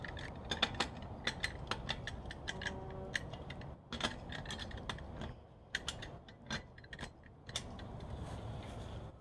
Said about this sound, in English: you want to loosen the lug nuts before you jack the car up